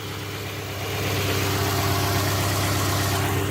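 A Subaru Forester 2.5-litre engine idles steadily and close, a smooth continuous rumble that rises slightly in loudness after the first second and then holds even.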